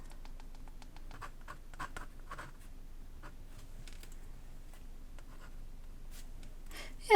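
A Kakimori brass dip nib scratches across paper in a series of short, fine strokes, crisp and close with small pauses between them, ending in a louder tap.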